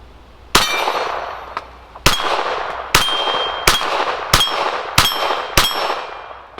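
Sig P322 rimfire pistol firing at steel targets at a range; seven sharp shots, each followed by a bright metallic ring from the struck steel, spaced about a second apart.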